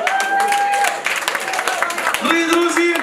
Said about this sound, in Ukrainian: Оплески цій парі.